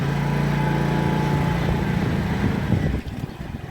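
A motorcycle engine idles as its idle speed is adjusted, a close, steady low chugging that drops in level near the end.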